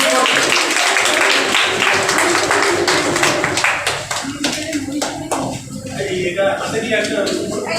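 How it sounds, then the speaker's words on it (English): An audience applauds the fourth-prize winners at a prize ceremony during a faculty development programme on additive manufacturing, steady clapping lasting several seconds and thinning toward the end, with voices talking underneath. "Give them a big round of applause."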